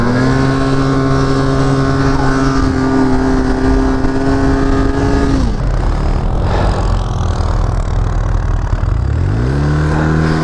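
A four-stroke snowmobile runs across a snow-covered frozen lake, its engine loud and close with a steady drone that drops off partway through and then revs back up near the end.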